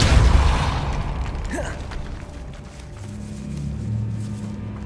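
A Depulso spell in Hogwarts Legacy shoves a mechanism into motion with a loud booming burst up front, followed by a swooshing magical sweep and a low grinding rumble that trails off, with no talking.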